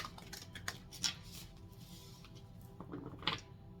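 Tarot deck being shuffled for a monthly reading, soft quiet riffles and card rustles in a few brief bursts with pauses between, close and faint, no talking.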